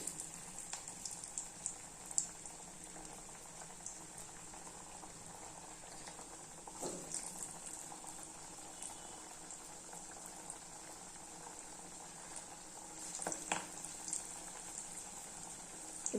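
Three-dal vadai bubble in hot oil with a soft, constant frothy crackle heard close but quietly, broken by an occasional faint clink or splash.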